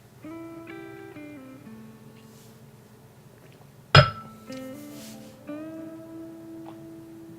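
A single sharp glass clink of a beer toast rings out once over soft background music.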